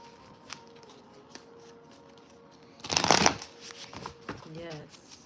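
Tarot cards being shuffled during a live reading, a brief close riffle burst in the middle of the clip, with a voice speaking softly before and after it.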